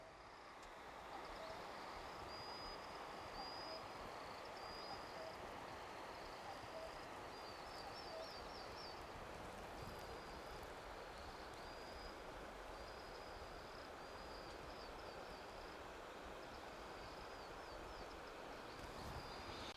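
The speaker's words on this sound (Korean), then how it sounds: "새소리가 엄청납니다 물소리랑 새소리랑 물소리가 어마어마합니다" Loud, steady rushing of stream water beside the Hongcheon River fills the scene, with repeated bird chirps and trills sounding faintly above it and no talking.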